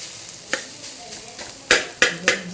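Grated coconut sautéing in a pan, with a soft background sizzle broken by several sharp stirring scrapes, isolated at first and then three louder strokes close together near the end.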